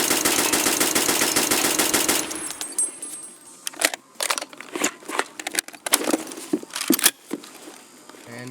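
A budget gun fired in Escape From Tarkov, a rapid, loud burst of automatic fire lasting about two seconds, followed by scattered short bursts and single shots with clicks and rattles in between.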